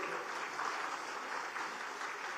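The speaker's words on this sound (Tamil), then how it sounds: "கரகோஷம் எழுப்புமாறு அன்புடன் கேட்டுக்கொள்ளுகின்றோம்" Broad, steady applause from a ceremony audience honouring 500 elderly couples on stage with the Chief Minister; a continuous wash of many hands clapping, moderately distant and fairly quiet, with no voices over it.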